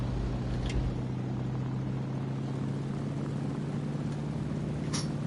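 Propeller plane engine at full throttle during takeoff in the War Thunder video game, a steady droning hum with a strong low tone that holds level throughout, loud and continuous with no talk over it.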